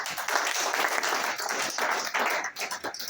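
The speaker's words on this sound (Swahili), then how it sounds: "tupige hata Farodhi makofi hapa" A church crowd at a pastor's 40th birthday celebration claps continuously in dense, steady applause that runs the whole time with no break.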